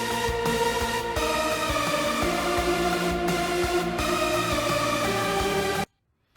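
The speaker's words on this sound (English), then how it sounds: "So it sounds like this heavily modulated synth saw with a big reverb on it." Heavily modulated synth saw soaked in a big Valhalla Supermassive reverb, from a worship backing-track arrangement: a sustained, shimmering wash with a few pulsing dips, heard alone and fairly soft, cutting off abruptly near the end.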